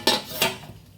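Two quick metallic clanks as a pot lid is set and closed over a pot of mango payasa on the stove, close and fairly crisp, fading into quiet.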